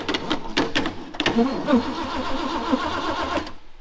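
A truck engine cranks after its starter solenoid is jumped, opening with several sharp clicks and then a rhythmic, laboring starter whir that churns on for a few seconds before stopping.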